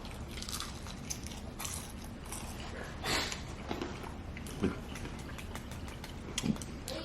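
Quiet close-up bites and chewing of crunchy deep fried catfish stuffed with seafood, with soft crackling crunches and a few sharper bites spread over several seconds.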